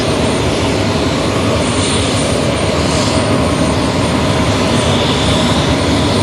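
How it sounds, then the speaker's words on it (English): Ryanair airliner taking off, its jet engines producing a loud, steady, broadband roar that fills the whole stretch without letup. "I think that's about his rotate point where that Ryanair's just going up now."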